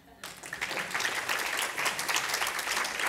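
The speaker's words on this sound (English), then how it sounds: "Now only you have to give a nice clap." A satsang audience claps together after sponsors are thanked, a steady wash of applause starting suddenly and holding close and even for about three seconds.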